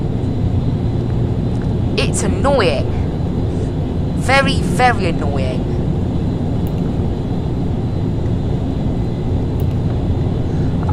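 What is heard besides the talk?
ATR 72 aircraft engines climbing in video game FSX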